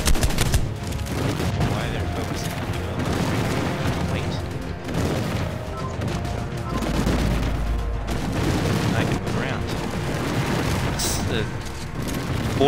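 Sustained gunfire and booming impacts in the survival game Ark, dense and loud throughout, with a voice talking over the continuous rumble of shots.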